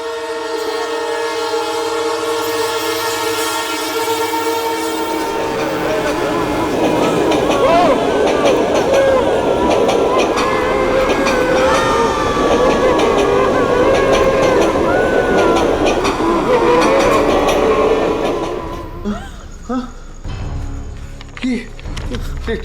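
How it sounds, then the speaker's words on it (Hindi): A train runs past a station without stopping. A loud horn sounds first, then the heavy rumble and rattle of the wagons passes close by for a long stretch before cutting off abruptly. "ये ट्रेन रुकी ही नहीं।"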